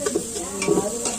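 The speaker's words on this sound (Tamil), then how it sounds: "பொன்னிறமாக வறுத்துக்கணும்." Onions frying golden in a pan with a steady sizzle, stirred by a utensil in a few distinct scraping strokes, close and fairly loud.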